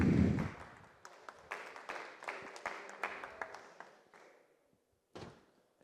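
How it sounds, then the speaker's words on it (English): Audience applause at a conference talk, a dense patter of clapping that thins gradually with scattered louder claps, then fades with a brief final burst near the end. "Please keep the applause going from Parity Labs for Torsten."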